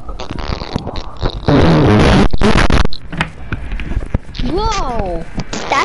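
A phone plays a loud, buzzy fart noise lasting over a second, with people talking and laughing close by before and after it.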